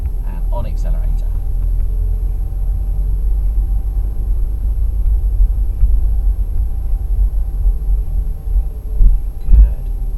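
Car engine accelerating after a gear change during a driving lesson, heard from inside as a steady, deep rumble that swells slightly toward the end, with a brief voice near the start.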